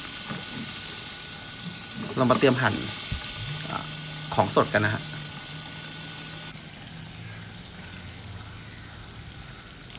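Constant sizzling hiss of snakeskin gourami frying in hot oil in a pan, continuing under someone speaking, then settling into a softer steady fizz.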